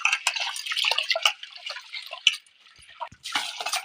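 Rice being washed with water in an old brass pot, with splashing, trickling and dripping sounds close by, a short quieter lull, then renewed swishing.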